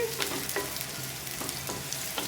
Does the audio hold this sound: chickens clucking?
no